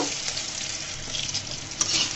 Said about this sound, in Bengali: দেখুন আমার বেগুনটা প্রায় সিদ্ধ হয়ে আসছে আমি আরও দু মিনিট ভেজে নিব